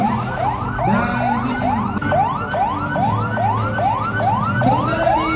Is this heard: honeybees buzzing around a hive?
no